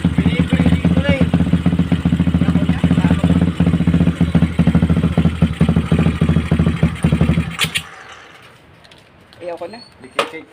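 A big-bike motorcycle engine idles steadily and close by for about seven seconds, then cuts out, leaving faint clicks and light handling noises.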